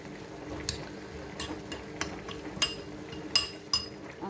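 A spoon stirring homemade salsa with salt and crushed red chilies in a bowl, giving a series of light, evenly spaced clinks and scrapes, close and fairly quiet with no talking.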